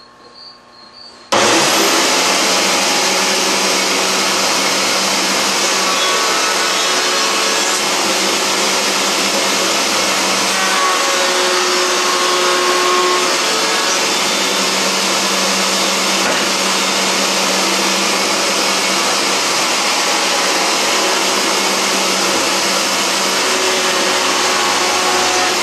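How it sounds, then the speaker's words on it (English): Router table motor starting abruptly and running at a steady high-pitched whine while routing wood end grain and long edges, loud and close, sustained for over twenty seconds with slight variations as the cut proceeds. "That is how you operate a router table."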